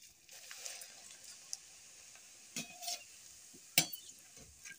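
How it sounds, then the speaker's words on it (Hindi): Poha frying in hot refined oil, a faint steady hiss with a few soft scraping stirs and light clatters, quiet and near. "चलिए अब इसे फ्राई करती हूँ।"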